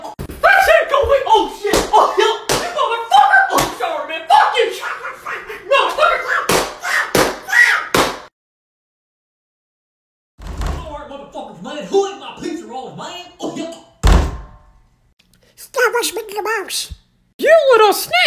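Loud banging and knocking on a door comes in sharp repeated bursts, mixed with heated shouting from several people, then a pause and more yelling.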